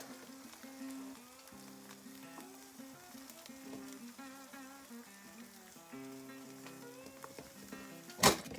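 Half a ham and cheese sandwich heating in a pan at a solo hot-tent camp on Poker Lake, giving a soft continuous frying sizzle with a tonal hum beneath and a sharp clack near the end.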